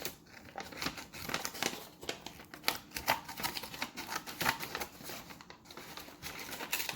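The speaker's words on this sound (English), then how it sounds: "The paper is now folded" Folded paper crinkles and is snipped with scissors, a dense run of crisp rustles and quick cutting clicks at close range, with no talking.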